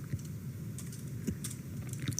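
An awk command being typed on a computer keyboard: quick, light, uneven key clicks close by, steady over a soft background with a firmer keystroke at the end.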